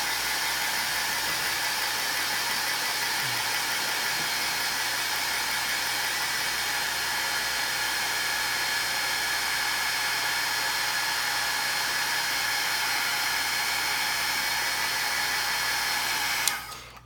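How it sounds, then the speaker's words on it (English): A heat gun blows steadily to dry Distress Oxide mist sprayed on paper, a constant close whooshing hum that runs unbroken and then cuts off abruptly at the end. "And again, I'm going to hit this with my heat gun."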